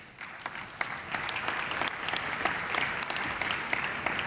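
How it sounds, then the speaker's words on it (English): Sustained applause from a large congress audience in Valencia welcoming the outgoing presidency members, steady dense clapping with a few sharper claps standing out, no talk over it. "let's welcome as they deserve with a big round of applause"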